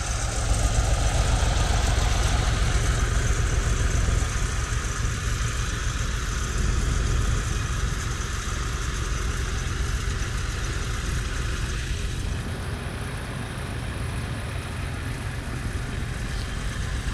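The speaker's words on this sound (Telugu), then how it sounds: "ఈ పక్క మాత్రం అది ఆ ట్రాక్టర్ మాత్రం పనిచేస్తుంది" A tractor engine runs steadily at a capital construction site in Amaravati, a continuous low mechanical drone with a slight shift in tone partway through and no voices.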